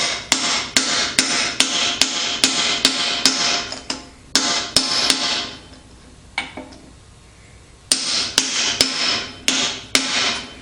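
Steel hammer strikes a driver tool seating a part into a 1953-1962 Corvette steering gearbox on a firm concrete-backed surface, sharp regular blows in quick series, a short pause, then another run of strikes, close and loud.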